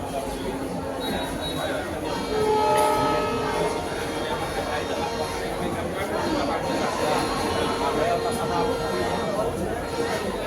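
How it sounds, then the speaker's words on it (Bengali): A train rolls into a busy railway station, a continuous rumble with faint horn tones, mixed with the chatter of a waiting crowd and nearby talk. "স্টেশনে ট্রেনে এসে গেছে"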